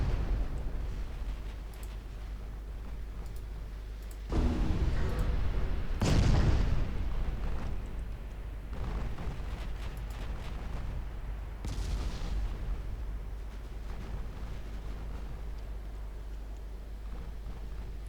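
Eleven-inch naval guns of a battleship firing in the naval warfare game Ultimate Admiral Dreadnoughts, a few heavy booming salvos spaced several seconds apart over a low constant rumble of engine and sea ambience.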